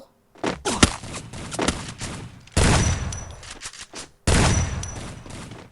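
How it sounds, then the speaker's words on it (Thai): Rapid gunfire from headshots in the Free Fire mobile shooter game: a burst of close, sharp shots followed by two loud sustained volleys separated by a short gap. "จะยิงหัว มาครับเดี๋ยวผมสเปซยิงหัวให้ดู"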